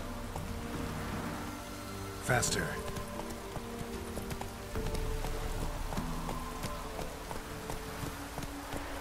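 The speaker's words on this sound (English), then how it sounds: "Looks like rain." Rain falls steadily over a mixed game soundscape in The Witcher 3, with horse hooves clip-clopping, music beneath and someone speaking briefly over it.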